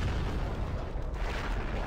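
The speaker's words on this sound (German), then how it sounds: "diese Explosionen sind zu wild" Explosions in a Skibidi Toilet animation during a laser-weapon battle, a dense continuous rumble of blasts with no clear gaps, loud and close.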